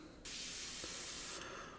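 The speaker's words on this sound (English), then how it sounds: "So I'm spraying some of that on here." Grey Tamiya paint sprays onto an Airfix Sabre model kit in one steady, close airbrush-like hiss lasting just over a second, starting and stopping abruptly in a quiet room.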